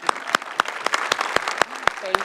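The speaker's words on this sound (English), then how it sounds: "let's give them all a warm round of applause" Applause in a city council chamber welcoming visiting students: a small group claps in a steady, sparse rhythm of sharp claps, and a voice briefly speaks near the end.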